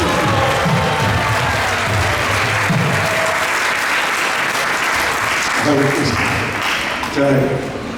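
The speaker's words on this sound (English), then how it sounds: "why don't we just sit here and do a nice applause for them" Loud, close applause from a seated congregation at an ISKCON Toronto temple ceremony, continuous for the full stretch, with voices and cheering mixed into the clapping.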